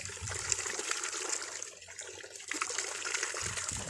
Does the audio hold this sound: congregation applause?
no